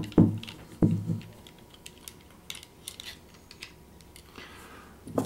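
The frame of a Mark II/III pistol, fitted snugly, is hinged open during a Majestic Arms Speed Strip install, giving two sharp close clunks, a run of faint metallic clicks, then another clunk.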